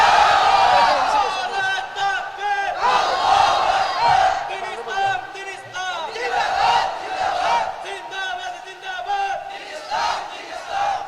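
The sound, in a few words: crowd shouting takbir (Allahu Akbar) at a religious gathering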